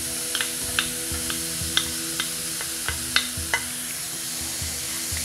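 Chopped beetroot and sliced green chillies sizzle in a pan, with a soft, steady crackle under repeated sharp taps and scrapes of a spoon against the pan, heard close and with no talking.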